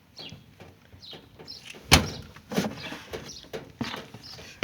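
A washing machine door is opened with a few light clicks and one sharp latch clunk near the middle, followed by softer knocks.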